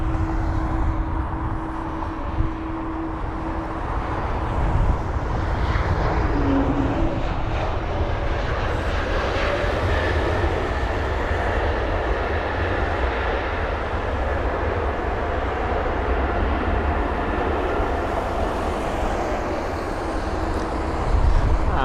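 An Airbus A220-300 in flight near London Heathrow, its engines giving a sustained loud roar with a rising and falling tonal howl as it passes, broad and steady with no talk.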